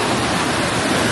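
Mother Falls waterfall in Baler, Aurora, a steady loud broadband rush of falling water filling the scene, continuous and close with no voices.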